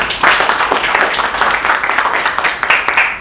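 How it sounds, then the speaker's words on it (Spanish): Audience applause at an academic research conference on the senses of the body, a steady wash of many hands clapping close by that carries on without pause. "damos un aplauso."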